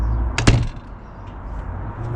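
A door on a homemade DIY camper built for a Toyota Tundra gives one sharp latch-and-thump near the start, followed by quiet room tone with a few faint taps.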